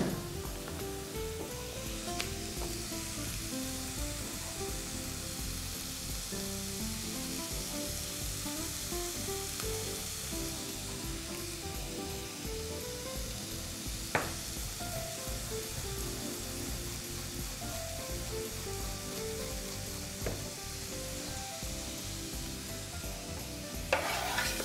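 Bacon pieces fry in a pan, keeping up a constant close sizzle with faint stirring and occasional scraping, and nobody speaks.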